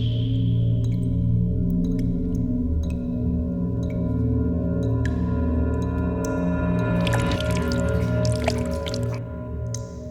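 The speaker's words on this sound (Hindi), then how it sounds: "पानी लीक हो रहा है" Water leaks from a terrace above and drips in sparse, irregular drops over a steady humming tone, with a brief burst of hissing near the end.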